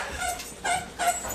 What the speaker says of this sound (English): that's my dog. That is a dog With a chew chewing toy.